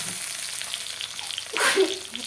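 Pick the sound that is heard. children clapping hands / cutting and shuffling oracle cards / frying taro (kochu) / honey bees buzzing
frying taro (kochu)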